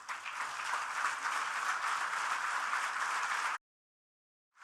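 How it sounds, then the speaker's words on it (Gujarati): Audience applause at a spiritual camp lecture, a dense, steady wash of many hands clapping for over three seconds, then cutting off abruptly into silence before a faint return at the end. "જોરદાર તાળીઓ"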